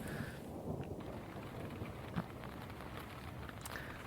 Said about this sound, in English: The rain intensifies.